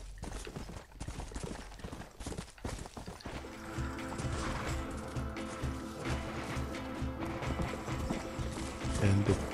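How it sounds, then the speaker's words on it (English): Horse hooves clip-clop steadily through a Red Dead Redemption game scene as a thief is chased, the rhythmic hoofbeats joined by a brief whinny and game music swelling beneath, with no talking. "my horse is ready."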